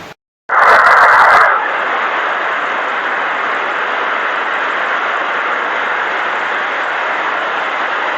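Strong wind and heavy rain roar against a plastic-covered farm greenhouse in a steady, loud, broadband wash that follows a brief louder burst near the start and then holds constant, with no talking.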